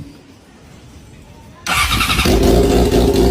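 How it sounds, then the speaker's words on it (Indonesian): Yamaha R6 motorcycle fitted with a Megapone exhaust, a quiet lead-in and then a sudden loud, raw engine roar that keeps revving hard, close by and alone. "banyak yang penasaran L6 pakai knalpot Megapone nih. Kita bakalan dengerin suaranya guys."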